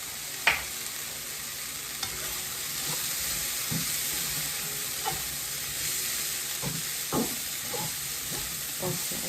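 Shrimp fried rice, Jamaican style, sizzles in a frying pan: a steady hiss throughout, broken by scattered clicks and scrapes from stirring, fairly quiet and close.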